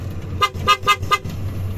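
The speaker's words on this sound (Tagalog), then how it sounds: "Busina." A PIAA horn fitted to an EMC Golf gives four short, loud honks in quick succession close by, over a low, steady engine hum.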